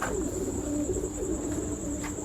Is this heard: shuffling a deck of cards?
no